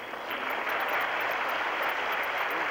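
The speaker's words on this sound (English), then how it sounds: "Applause there for a correct judgment on the baseline" Crowd applause fills a badminton arena at a 1988 Grand Prix Finals women's match, a steady, dense clapping that holds level throughout without pause.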